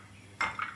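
A frying pan heated on the stove gives two short metallic clinks as it is handled while a teaspoon of vegetable oil is spread for egg crepes, close and fairly quiet.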